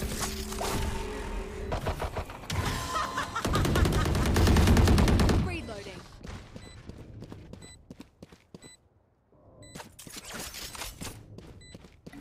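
Gunfire in Valorant comes as quick clusters of sharp shots, then a dense, loud burst of rapid fire. Scattered softer sounds follow, a quiet lull, and a few more distant shots near the end.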